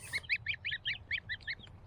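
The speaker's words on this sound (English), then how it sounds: "sitting right here next to our brooder and taking a look at our new geese" A run of about nine high, thin peeps in quick, fairly even rhythm, close and clear, from goslings calling in a brooder.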